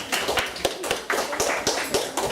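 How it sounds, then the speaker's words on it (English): A small group of students in a lecture room claps for themselves, producing close, irregular, crisp hand claps that overlap loosely for a couple of seconds. "give yourselves another round of applause"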